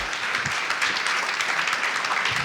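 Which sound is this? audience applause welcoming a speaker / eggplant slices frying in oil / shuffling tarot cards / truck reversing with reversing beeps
audience applause welcoming a speaker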